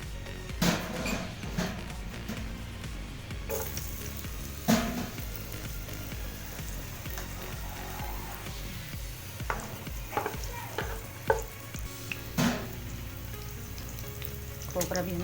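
Nuts frying in ghee in a pan give a soft, steady sizzle, broken by a few louder clinks and scrapes of stirring, with no talking.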